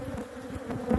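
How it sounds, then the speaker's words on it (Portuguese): A very defensive honeybee swarm attacking near a beekeeper's smoker, a dense, continuous close buzzing of many bees, loud and steady, with no voices heard. "A abelha tá atacando, atacando."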